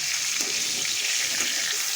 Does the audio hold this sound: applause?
no